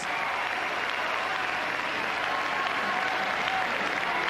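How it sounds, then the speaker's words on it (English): Sustained, loud applause from a large crowd at a Latin dance championship semi-final fills the space without letup, with no other sounds standing out. "rapturous applause there for the first heat here in these semi-finals"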